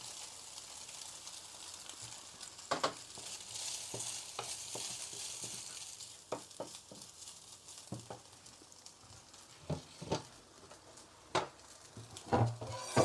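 Soft frying sizzle of carrots in a pan with occasional stirring clicks and scrapes of a utensil against the pan, fairly quiet throughout.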